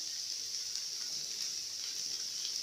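Oil added to a pan of minced beef sizzles with a steady, faint, hissing crackle, continuous and even throughout with no talking.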